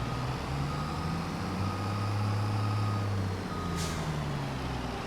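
A truck in Farming Simulator 22 backs up to park, its reversing alarm beeping steadily over a loud, continuous diesel idle, with a brief hiss partway through.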